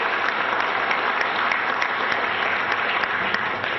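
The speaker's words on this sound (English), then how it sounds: "Please give His Excellency an applause." An audience claps together in steady, sustained applause that stays at an even level throughout.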